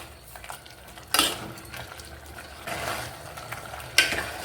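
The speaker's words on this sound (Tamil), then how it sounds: "இந்த இஞ்சி பூண்டு பேஸ்ட்டு நல்லா வந்துட்டு பச்சை ஸ்மெல் போகிற வரைக்கும் நல்லா வதக்கிக்கலாம்." Ginger garlic paste sautés quietly in hot oil for a mutton curry, a soft continuous sizzle broken by two sharp scraping clinks of a ladle against the pan.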